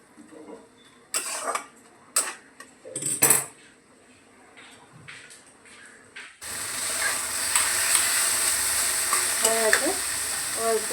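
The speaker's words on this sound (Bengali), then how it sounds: "বেগুনটা দিয়ে একটু নাড়াচাড়া করে নামিয়ে নেব" Eggplant stir-fried in a pan with fenugreek greens: a few sharp utensil clanks and scrapes against the pan first, then a loud continuous sizzle with stirring sounds for the rest.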